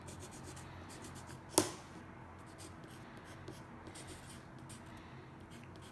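Pencil scratching steadily on cardboard while a spinner blank is marked, a soft continuous scraping with one sharp tap partway through, close and quiet, no talking.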